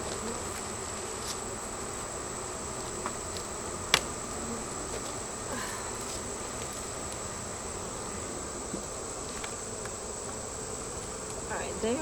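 Honeybees in an opened homestead beehive fill the air with a dense, loud, steady buzz that holds unbroken from start to finish, with a few faint knocks.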